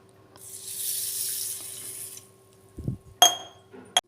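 Water runs from a tap onto uncooked rice for soaking, a steady splashing pour lasting about two seconds, then clinks of a bowl or pot being handled close by.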